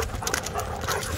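A heavily pregnant white German Shepherd dog pants close by in quick, uneven bursts of breathy huffs, with light scuffling movement mixed in.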